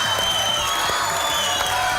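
Studio audience applause on a Pakistani comedy talk show, a steady wash of clapping mixed with light cheering that holds at an even level throughout.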